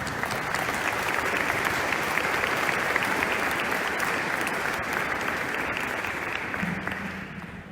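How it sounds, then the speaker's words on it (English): A large commencement audience applauds board members, a dense, sustained roar of clapping that holds steady for several seconds before tapering slightly. "let us give them their applause"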